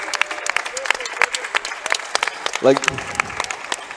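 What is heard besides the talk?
audience applause for the winning team at CS:GO LAN finals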